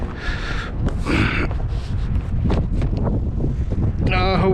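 Strong wind buffets the microphone outdoors, making a steady loud roar for the whole stretch, with a few breathy bursts mixed in.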